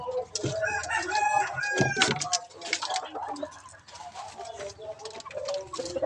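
Chickens cluck and a rooster crows nearby in a breeding pen, a busy overlapping barnyard chorus with a voice mixed in.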